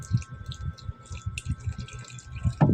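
Small amount of water poured into puto batter of egg, flour and milk being mixed, soft wet drips and squishy sloshes at close range, irregular and quiet, with a louder pour at the end.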